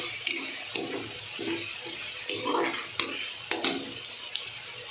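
Onion and eggplant bharit mixture sautéing in a pan, heard as a low sizzle with repeated scraping and clinking strokes of a spoon as it is stirred. The stirring comes in irregular bursts, close by and with no talk.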